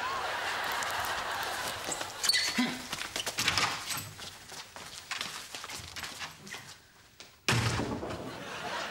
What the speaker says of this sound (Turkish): Kapı öyle çarpılmaz, böyle çarpılır.